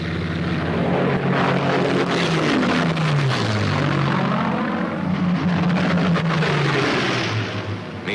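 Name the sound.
WWII Mustang fighter aircraft escorting bombers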